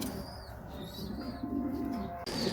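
Pigeons in a loft with squabs, soft low cooing warbles repeating close by over a faint background, quiet throughout with no talking.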